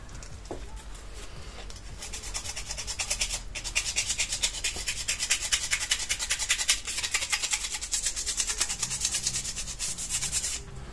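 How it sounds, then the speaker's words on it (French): Offset parasol metal parts are sanded around their holes to deburr them, making a continuous, fairly faint scratchy rubbing with rapid back-and-forth strokes. "je vais mettre un petit coup de ponçage sur les trous pour bien les ébavurer"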